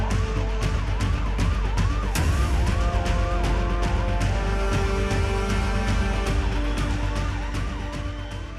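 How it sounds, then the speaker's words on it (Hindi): Fire brigade and police vehicle sirens wail loudly and continuously during an emergency drill in the Govindpura area of Bhopal, their rising and falling tones overlapping with rapid clicking pulses and a low engine rumble. "अचानक फायर ब्रिगेड और पुलिस की गाड़ियों के सायरन का शोर उठा।"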